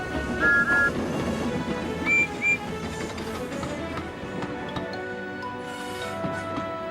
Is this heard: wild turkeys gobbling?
no